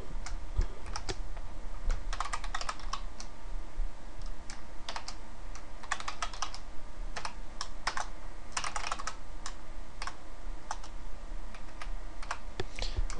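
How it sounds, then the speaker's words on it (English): Steady computer keyboard typing while code is entered, with quick clustered keystrokes and brief pauses, close and moderately loud over a constant low background hum, no talking. "let's actually just type it out"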